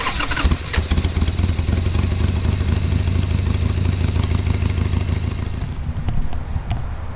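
A Harley motorcycle engine, its carburetor just rebuilt, cranks and catches, then settles into a loud, close, lumpy idle that throbs steadily until it fades near the end.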